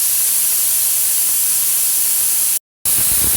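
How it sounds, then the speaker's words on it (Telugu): A pressure cooker cooking dal lets out a loud, steady steam-hiss whistle, close and continuous, briefly cutting out before the jet of steam resumes. "1 విజిల్స్ వచ్చిందండి,"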